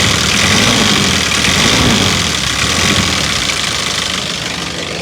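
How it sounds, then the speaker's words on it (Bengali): A Toyota Super Ster LD engine idles close by with a loud, steady, throbbing rumble and a faint knocking texture, running alone without talk. "ইঞ্জিনের সাউন্ড কিন্তু আপনারা শুনেই বুঝতে পারছেন যে ইঞ্জিনের কন্ডিশন কিন্তু অনেক ভালো কন্ডিশনে আছে।"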